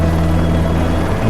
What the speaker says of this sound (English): They are able to hear him speaking over multiple helicopters.